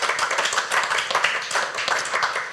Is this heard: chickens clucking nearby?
no